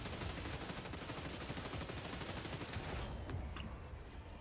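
Rapid, dense bursts of gunfire from the video game Helldivers 2 sound continuously and loudly, a sustained fusillade that thins slightly toward the end with no talking.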